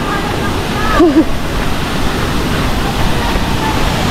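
Steady broadband rush of heavily falling water at Nangoloan Falls in San Felipe, Zambales, loud and continuous throughout, with a brief voice-like blip near the start.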